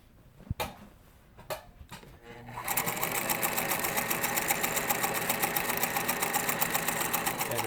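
Singer 252 sewing machine running a straight stitch: after a few soft clicks and knocks, the motor starts and settles into a fast, even, rattling needle rhythm that continues steadily and fairly close until the end.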